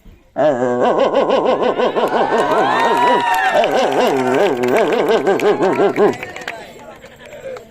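A human voice imitates a grown dog barking: one sustained, strongly wavering vocal call lasting about six seconds, loud and close, then it stops abruptly.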